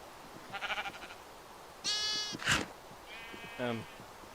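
Sheep bleat in the Minecraft video game, several short separate bleats at moderate loudness over a low background hum, with no talk during the calls.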